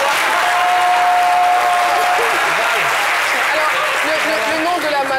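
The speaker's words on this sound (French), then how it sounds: "Et si on applaudissait, alors il donne le coup d'envoi." A TV studio audience breaks into loud, dense applause on a live midday talk show, a continuous roar of clapping with faint voices and a brief whistle-like tone mixed in.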